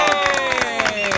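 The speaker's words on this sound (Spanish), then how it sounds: "¡El aplauso! ¡Sí, señor!" Studio audience applause on a Spanish-language children's magic show, a dense burst of clapping with some cheering and tonal music-like sound laid over it.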